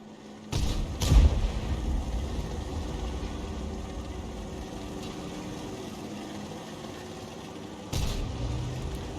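Tier 10 tanks such as the WZ-111 Model 5A and Object 140 battle in World of Tanks: a loud cannon boom, a second shot moments later, then a steady engine rumble until another heavy blast near the end.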